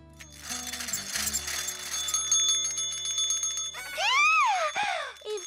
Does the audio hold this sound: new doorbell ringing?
yes